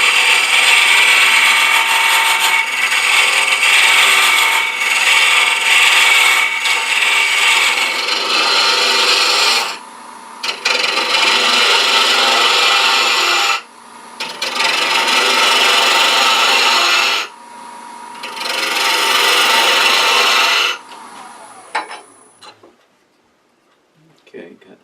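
A wood turning tool cuts a simple wooden box spinning on a lathe, producing loud, harsh scraping in long sustained passes separated by brief pauses before the lathe winds down.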